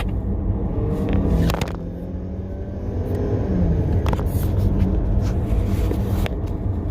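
A 2020 Ford Escape rated at 250 horsepower accelerates on the road, its engine a steady rumbling drone heard from inside the cabin. Occasional clicks and knocks sit over the constant road noise, with no talk.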